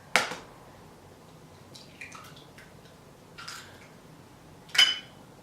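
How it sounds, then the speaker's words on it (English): Two large eggs cracked into a bowl: a sharp crack opens, followed later by small wet taps and a squelchy splat, then a second clear crack near the end, all close and quiet with no talking. "So I'm just going to crack these ones into the bowl"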